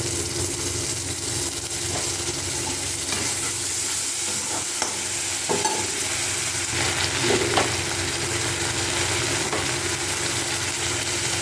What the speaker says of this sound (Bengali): পেঁয়াজটা ভাজা হয়ে গেলে আদা পেঁয়াজ রসুন বাটা এর মধ্যে দিয়ে দেবো